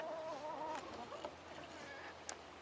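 Chickens cluck softly nearby, a few short warbling calls over a quiet background.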